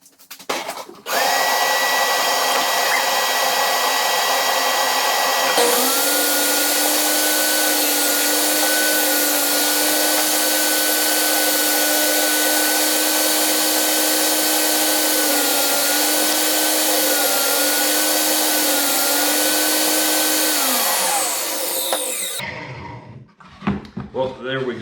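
A power saw cuts wood for a lighthouse model build, a loud, steady whining drone that runs unbroken for about twenty seconds before winding down and stopping, close up.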